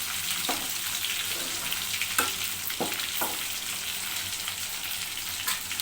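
Chicken 65 fries in hot oil with a steady, dense sizzle and a few sharper pops, heard close and alone without any talk.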